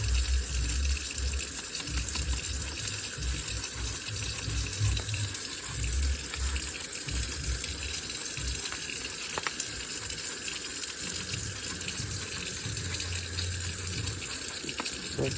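Water runs steadily from a tap to rinse a 1987 Hutch BMX bike's brake caliper, a constant close hiss and splash with low gurgling surges as the stream hits the part.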